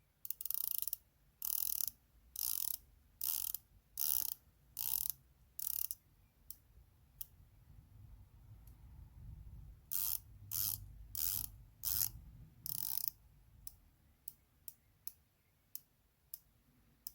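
Addiesdive MY-H9 dive watch bezel rotated by hand, a close, crisp series of rhythmic ratcheting clicks in two bursts, then a few sparser single clicks, over quiet background.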